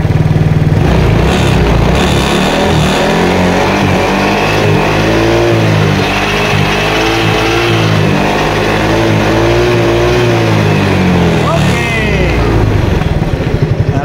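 A Yamaha Mio Soulty scooter with a failed regulator revs up close and loud, the engine climbing and falling steadily for several seconds, with a brief voice near the end.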